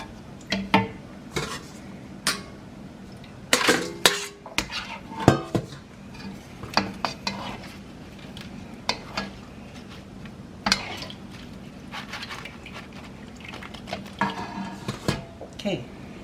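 Pork rinds lifted out of frying oil with a metal utensil: scattered clanks and scrapes against the pan over a faint background hiss, close and intermittent, with no sustained speech.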